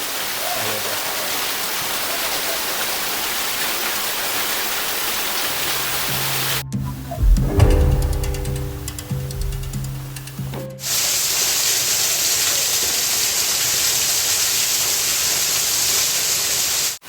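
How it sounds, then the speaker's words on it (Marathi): Waterfall water rushing down inside Waghbil cave near Badlapur, a loud, steady broadband roar close by that drops away for a few seconds of muffled, rumbling handling noise before the full rush returns. "वरून धबधब्याचं पाणी येत आहे"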